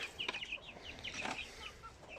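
Hens and their chicks cluck and cheep softly while eating greens such as cabbage and cucumber, short high calls scattered close by in a quiet yard.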